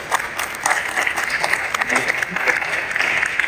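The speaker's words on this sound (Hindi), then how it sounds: "अपने लिए तालियां बजाएं।" An audience at an influencer meetup event applauds in a dense, continuous burst of many hands clapping, loud and close, with faint voices mixed underneath.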